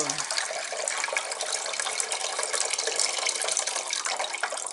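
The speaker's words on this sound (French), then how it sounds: "vous faites ça sous le robinet. Vous voyez, vous remplissez bien le bocal jusqu'en haut en fait." Tap water gushes steadily into a jar of sprouting seeds as it is filled to the top for rinsing, a close, bright, continuous splashing rush with no talk over it.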